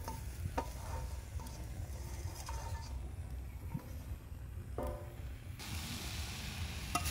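Grated coconut and sugar filling for puli pitha is stirred in a pan as the sugar melts, with scattered spoon scrapes and taps over a low, steady background rumble.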